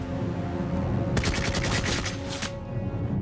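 A burst of rapid gunfire from a World War II documentary scene, about a second and a half of quick repeated shots over a constant low background rumble.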